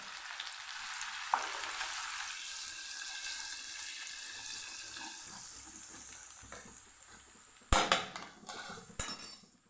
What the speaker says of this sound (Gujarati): આપણે પહેલાં આદુ લસણની પેસ્ટને આપણે સાંકળી લેવાની છે